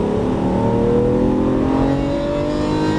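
A Lamborghini Aventador LP700-4 accelerating hard, its engine note a loud continuous roar with rising harmonics as revs climb, close and unbroken for the whole stretch.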